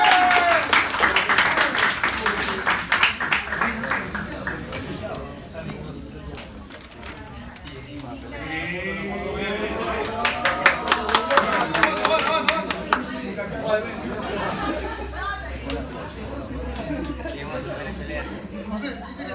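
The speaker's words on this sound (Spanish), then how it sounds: "Fuerte el aplauso para él." A crowd applauds the winner of a Muay Thai fight at an academy in Los Olivos, Lima, Peru, with scattered claps swelling into dense bursts amid loud voices and crowd chatter.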